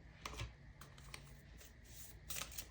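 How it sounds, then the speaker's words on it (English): Tarot cards shuffled by hand, a soft papery riffling and rubbing with brief flicks and slaps, quiet and close, no talking. "give me one moment here while I pack up my cards and get a good shuffle"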